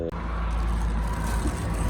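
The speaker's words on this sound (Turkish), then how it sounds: "kusura bakmayın araba gürültüleri geliyor" Cars pass along a windy roadside in Güzelbahçe, a continuous low engine and tyre rumble close by with no talk.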